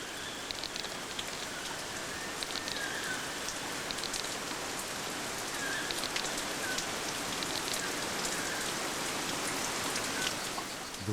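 Steady rain falls at the onset of the wet season in a black lagoon wetland, a dense, even hiss of drops on surfaces that holds at a constant level throughout with no voices.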